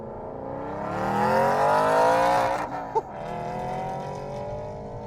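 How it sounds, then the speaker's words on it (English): An Aston Martin Vantage GT8 with its optional factory titanium exhaust revs hard, the rising engine note swelling loud then dropping off with a sharp crackle, close and without talk. "This car from factory has an optional titanium exhaust system, and it's one of the best in the world."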